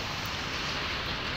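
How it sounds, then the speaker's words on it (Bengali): Heavy rain falling near a water plant during a full day of downpour, a dense, even hiss that fills the whole short stretch with no break or voices. "এখন পুরো বৃষ্টি"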